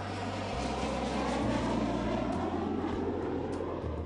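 Shuttle training aircraft flying over the Kennedy shuttle landing facility during practice landings, a steady loud jet engine roar with a continuous low drone and no talk.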